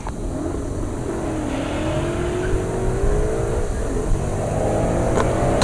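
A Mustang accelerates down a drag strip at Heartland Park Topeka, a rising engine note that climbs steadily and is heard from a distance over broad outdoor noise, with no talking.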